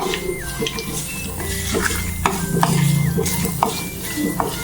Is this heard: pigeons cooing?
no